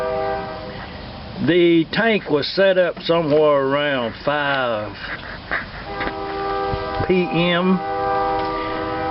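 A train horn toots a couple of times from a distance as the train gets ready to leave town, sustained tones sounding behind someone talking.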